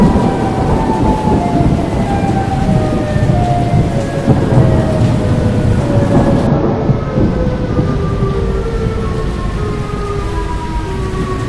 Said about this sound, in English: The storm is really picking up, and I'm beginning to worry about the increasing wind.